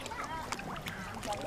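Geese honk near the water, giving several short, faint calls in quick succession over light outdoor background noise.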